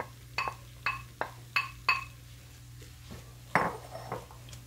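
Soft scrambled egg stirred back into shrimp fried rice in a hot pan: about six sharp, evenly spaced clanks of a utensil against the pan, then a pause and one more knock, over a faint steady hum.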